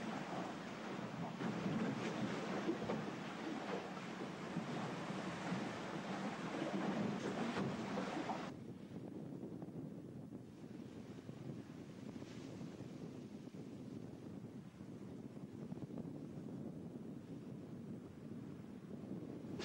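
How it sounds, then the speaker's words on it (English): Strong wind of nearly 30 knots roars steadily over the microphone with the heavy wash of big waves on a yacht sailing upwind offshore, loud and continuous, easing somewhat partway through. "it's a bit windy, blowing nearly 30 knots, and we're sailing upwind in big seas"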